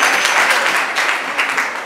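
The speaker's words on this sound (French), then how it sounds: "Est-ce que vous pouvez s'applaudir nous-mêmes d'abord?" Dense, steady clapping from students at Lycée Mayidiyo in Kamina, loud and close, filling the brief moment without a break.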